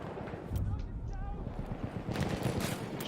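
Gunfire crackles in a Battlefield 1 match on a map crowded with snipers, mixed into a dense, rumbling din of battle with a few sharper bursts.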